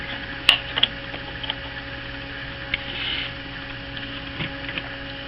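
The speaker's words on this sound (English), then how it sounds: "You can hear the piston pumping very efficiently" Aluminum piston cycling inside an airsoft gearbox, a few faint mechanical clicks and ratchety ticks over a low steady hum, close and quiet.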